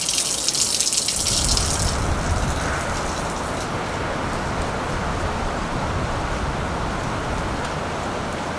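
Water pouring and splashing steadily from a tap or spout, a close, continuous gushing that sets in with a burst of hiss and keeps running evenly for several seconds.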